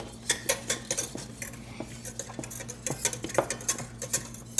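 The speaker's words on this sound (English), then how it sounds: "I'm going to give this a stir while you're stirring this" Lasagna sauce being stirred in a pot, with a quick, busy rhythm of spoon scrapes and clinks against the metal over a low kitchen hum, near and moderately quiet.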